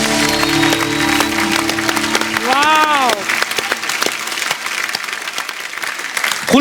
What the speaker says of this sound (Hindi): खुल के तालियां हो जाए हमारे आज के सारे मेहमानों के लिए।